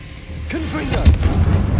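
A booming fire spell blast from Hogwarts Legacy on PS5, Confringo, with a close, heavy low-end burst and rumbling tail, partly mixed with a voice.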